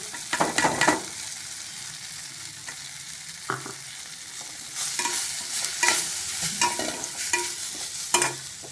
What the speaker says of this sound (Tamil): வெண்டைக்காய் வதக்கணும்